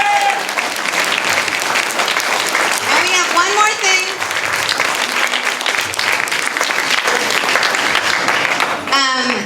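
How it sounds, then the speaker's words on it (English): Sustained loud applause and clapping from a seminar audience fills the room, with a presenter's voice speaking over the end of it. "if you can please give them a round of applause"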